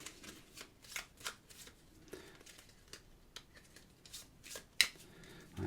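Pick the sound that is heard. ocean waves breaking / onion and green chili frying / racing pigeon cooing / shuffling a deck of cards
shuffling a deck of cards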